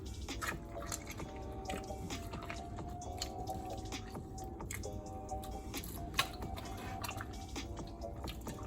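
Ripe tomatoes squeezed and mashed by hand into chili powder for a Tamil fish curry, giving faint wet squishes and soft drips at close range over a steady background hum.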